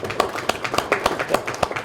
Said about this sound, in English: Can we give them a round of applause, please, to welcome them?